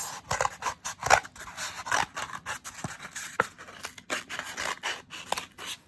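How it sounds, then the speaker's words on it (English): Scissors snipping through a cardboard toilet paper roll, a steady run of close, crisp cuts and rustling paper with small irregular pauses, no talking. "I need to cut a space in this part of this roll"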